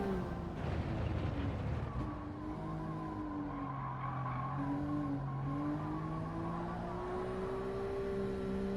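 Race car engine drones steadily in Gran Turismo 7 during a time trial, its pitch rising and falling through throttle changes with tire squeal layered over a continuous, fairly quiet mechanical hum.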